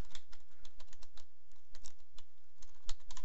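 Steady, rapid keystrokes on a computer keyboard while Java code is typed, close and clear, with irregular rhythm and no voices.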